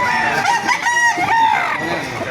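A Boston Roundhead rooster crows at the Baliuag chicken market, one loud, close cock-a-doodle-doo lasting a couple of seconds.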